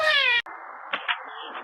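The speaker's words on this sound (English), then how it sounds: "Don't you meow at me." A cat gives one clear, close meow, then a brief throaty caterwaul-like call follows, short and fairly loud.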